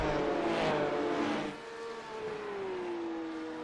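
A Porsche Cup race car at Watkins Glen roars past at full volume, then its engine tone drops and trails off as a steady, fading whine into the distance.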